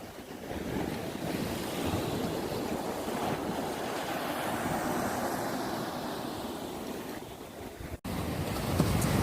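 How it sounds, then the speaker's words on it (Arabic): Sea waves wash onto a North Sinai beach, a loud and steady rolling surf mixed with wind buffeting the microphone, with a brief drop in the sound near the end. "زي كده ما انتوا شايفين احنا دلوقتي على شط البحر."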